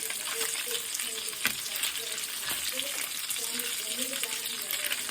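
Bacon goulash frying in a pan, a dense steady sizzle with occasional stirring scrapes and pops running throughout, with a voice faintly present underneath.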